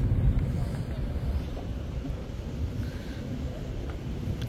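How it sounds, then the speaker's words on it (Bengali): Cold wind on the open deck of the river launch MV Sundarban-12 travelling from Jhalokathi to Dhaka buffets steadily with a low rumble, a continuous blustery roar with engine drone beneath and no talk. "বাতাস আছে, এই বাতাসটা অনেক মানে শীত লাগতেছে।"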